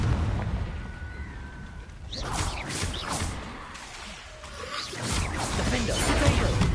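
Confringo blasting spells go off in Hogwarts Legacy combat, several booming bursts with crackling tails spread across the fight and mixed with other game sounds.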